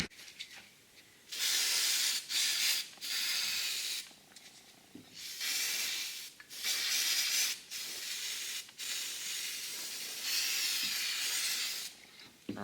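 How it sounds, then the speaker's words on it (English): Repeated close bursts of penetrating oil sprayed from an aerosol around the impeller of a seized Kawasaki 15F jet pump, sharp hissing blasts of a few seconds each separated by short pauses, with light rubbing and handling noises between. "just going to spray a little bit of penetrating oil around the impeller"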